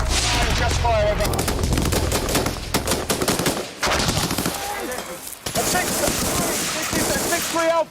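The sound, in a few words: gunfire from Royal Marines engaging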